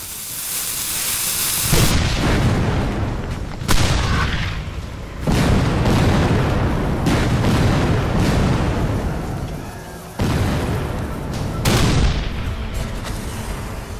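Civil War cannons firing at the Battle of Gettysburg, 12-pound guns loosing solid iron shot: a series of heavy, loud booms arriving every couple of seconds, each followed by a long rumbling roll, with no talking.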